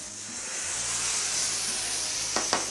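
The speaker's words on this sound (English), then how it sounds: "And I let it steam a little bit more." Food steams in a pan after a splash of water is added, giving a steady, close hiss and sizzle throughout, with two brief clicks near the end.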